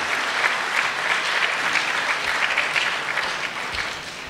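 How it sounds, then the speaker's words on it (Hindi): Audience at a Hindi kavi sammelan poetry gathering claps steadily and loudly, a dense sustained wash of applause that holds throughout and eases slightly near the end. "एक बार तालियां बजाकर मुझे माहौल दीजिएगा"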